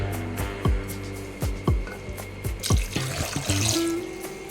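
About one and a half tumblers of water poured into a home cooking pot holding dried red chillies and garlic, with a few hollow knocks followed by a splashing pour, near and alone.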